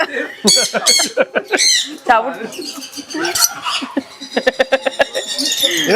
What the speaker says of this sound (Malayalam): ബ്ലൂ ആൻഡ് ഗോൾഡ് മക്കാവോ ആണ്.